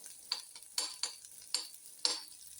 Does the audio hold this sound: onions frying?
yes